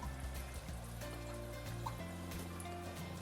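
Alkaline water runs from a Panasonic TK-AS41 ionizer in a steady, close trickle, mixed with a constant low tonal hum through the whole stretch.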